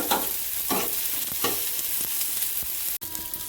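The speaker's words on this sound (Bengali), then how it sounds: "প্যানে তেল দিয়েছি, এবার আমি সবজিগুলো ভেজে নিচ্ছি।" Carrot, beet, tomato and green chilli frying in oil in a pan, a steady loud sizzle close up with periodic stirring scrapes and no talk.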